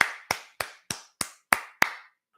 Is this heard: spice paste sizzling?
no